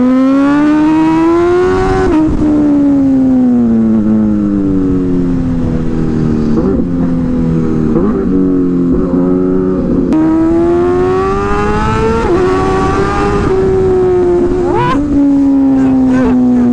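A tuned Aprilia hyper naked motorcycle with a decatted exhaust, velocity stacks and a filter revs hard and accelerates, a loud, raw engine tone rising and falling through gear changes, close and dominant throughout.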